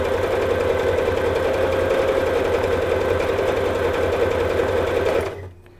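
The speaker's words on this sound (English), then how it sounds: "the stress test for any machine is a low stitch length, high stitch width on a zigzag." A Juki HZL-27Z sewing machine sews a wide zigzag at a short stitch length. It makes a loud, fast, continuous mechanical chatter close by, then stops abruptly near the end.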